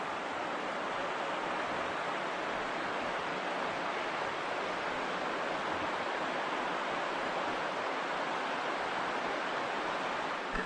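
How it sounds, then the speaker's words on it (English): The Ausable River flows at Quarry Pool in Wilmington Notch, a steady, full rushing of moving water that holds an even level throughout with no voices. "Water's moving nicely."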